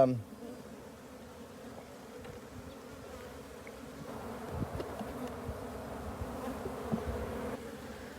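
Honey bees buzz steadily at a hive run by a bee company in Encinitas, California, making a dense, continuous drone close by that swells slightly partway through.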